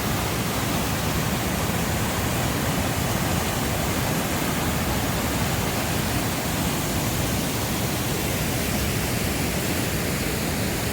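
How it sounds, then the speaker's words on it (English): A raging river rushes loudly beside the Granite Falls fish ladders, a close, continuous roar of churning water that stays steady and dense throughout, with no other sounds standing out. "we're pretty close to this raging river, and it's quite noisy"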